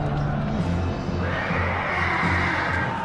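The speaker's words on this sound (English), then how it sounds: "the auxiliaries kill the barbarian horses, cutting off any possibility of a fast retreat" Horses neighing and whinnying amid a loud battle scene as barbarian horses are killed by Roman auxiliaries during the invasion of Britain, with sustained cries over a dense background din.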